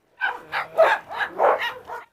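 A dog from a pack being fed chicken drumsticks barks repeatedly at close range, about seven loud woofs in an uneven rhythm, with some yipping quality and no talk over it.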